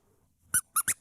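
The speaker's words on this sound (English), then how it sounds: "It's only a dog or pet toy when it does a little squeak, squeak, squeak." A squeaky dog toy gives four short, sharp squeaks close by after a moment of near silence, the last three quickly spaced.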